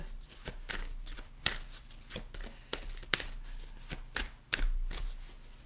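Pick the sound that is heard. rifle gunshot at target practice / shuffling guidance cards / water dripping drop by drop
shuffling guidance cards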